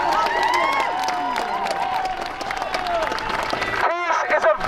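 A crowd at a street protest in Liverpool applauds and cheers, the clapping mixed with voices and shouting, ending in a loud gusty burst.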